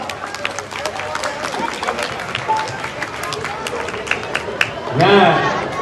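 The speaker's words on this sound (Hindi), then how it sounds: "जोरदार तालियां।" Audience at a Ramleela stage performance claps steadily, a dense patter of hands under murmuring crowd chatter, swelling louder near the end.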